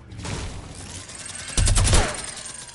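In a duos video game match, a player's gunfire crackles in a rapid burst of shots, louder and denser in the middle of the stretch, over a faint background.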